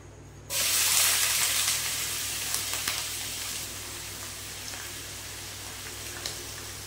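Chopped onion dropped into hot mustard oil bursts into a loud, steady sizzle that begins abruptly, then settles into a continuous hissing fry with small pops, close by and without any talk.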